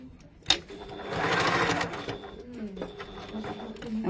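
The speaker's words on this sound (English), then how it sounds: "And now I'm going to top stitch down here." Domestic sewing machine top stitching fabric, a sharp click followed by a steady motor whirr with rapid needle chatter that slows and tapers off, close and clear.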